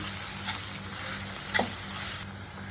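Vegetables being stirred into cooked potato in a hot pan on a high flame, with a continuous sizzle, a scrape of the spoon partway through, and no voices.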